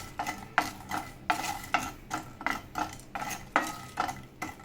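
Cardamom and poppy seeds being heated together in a pan, stirred in a steady rhythm of scraping strokes about every half second, close and fairly quiet with no voices.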